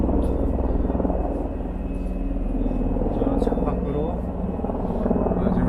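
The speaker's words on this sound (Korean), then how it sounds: "창밖으로 지금 헬리콥터가 지나가서 좀 시끄럽네요." A helicopter passes outside a window, its steady low rotor rumble and beating throb filling the room, while someone speaks over it.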